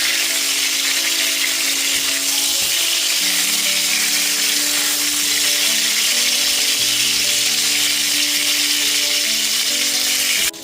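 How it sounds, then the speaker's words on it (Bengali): Pointed gourd pieces frying in hot oil over a medium gas flame, a steady, close, bright sizzle that continues evenly throughout with no voices. "পটলগুলোকে 6 থেকে 7 মিনিট ধরে খুব ভালো মতো ভেজে নেব।"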